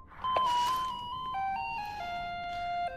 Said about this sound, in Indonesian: Namun tiba-tiba telepon di kamarnya berdering